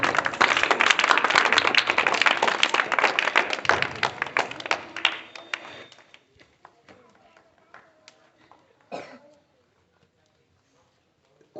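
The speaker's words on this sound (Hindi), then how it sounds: "वेरी फाइन, ताली बजाओ।" A classroom of students claps their hands in a dense burst of rapid claps that thins out into a few scattered slaps and dies away, with a voice speaking faintly underneath.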